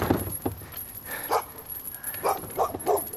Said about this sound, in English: And now here are some more dogs.